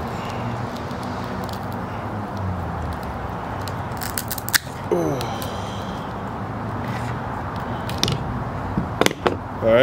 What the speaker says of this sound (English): we'll use these cable cutters